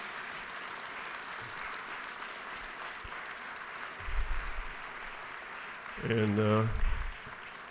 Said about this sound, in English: I want y'all to give them a round of applause